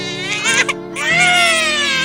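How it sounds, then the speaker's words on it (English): Several babies cry in a continuous high, wavering wail, loud and close, with a brief catch near the middle before the crying swells again and holds steady. "That's the sound of babies crying."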